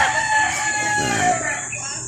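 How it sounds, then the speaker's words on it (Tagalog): A rooster crows loudly and close by in a small backyard chicken coop, one long drawn-out call filling the clip over a busy background of other fowl. "nandito tayo sa ating munting manukan"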